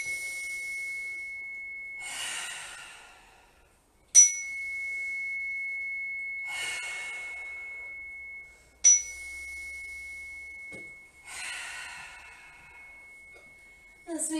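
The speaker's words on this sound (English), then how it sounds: "with the chimes." Chimes ring at the close of a yoga session, a single sustained bell tone that carries steadily through several long, slow breaths and is renewed by a sharp strike twice more.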